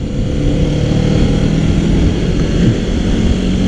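A motorcycle or truck passes on a road, a steady broadband engine and tyre roar holding loud and close for the whole stretch with no talk over it.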